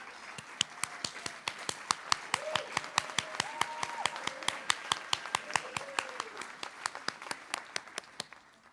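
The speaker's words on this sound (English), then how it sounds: "thank you for that warm, warm applause." Audience at a Brookline teachers' celebration event applauds elected officials, with steady overlapping clapping across the whole stretch, some sharper individual claps standing out and faint voices murmuring underneath.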